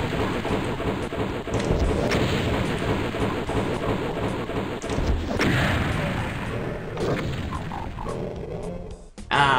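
Dense, continuous rumbling booms and crackling blasts of rocket explosions in a video game fill the whole stretch, loud and layered with no pauses.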